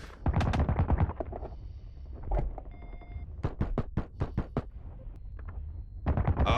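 Rapid AK rifle bursts in the early-access shooter Boundary, loud sharp cracks in quick strings of several shots, a short pause, then another burst and a final few shots.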